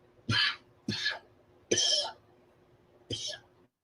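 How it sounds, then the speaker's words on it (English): Four separate coughs, close and moderately loud, spaced roughly a second apart with quiet gaps between them. "hold on, I got to cough for a moment"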